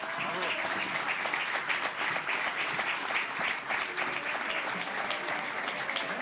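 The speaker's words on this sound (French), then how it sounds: "Applaudissements pour Ruby." Sustained audience applause, many hands clapping steadily at full volume for several seconds, with occasional voices and cheers mixed into the crowd.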